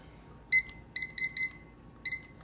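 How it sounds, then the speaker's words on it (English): A kitchen oven timer gives a series of short, bright electronic beeps as it is set while soft pretzels bake: one beep, a quick cluster of three, then one more after a pause, close and clear over quiet room noise. "So I'm gonna set the timer"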